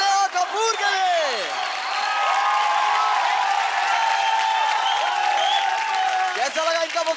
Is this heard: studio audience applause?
yes